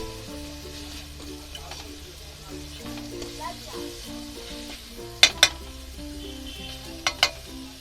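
Chicken and vegetables stir-frying together for chicken chowmein make a steady sizzle over a low hum, broken by a few sharp paired clacks of a utensil striking the pan near the end.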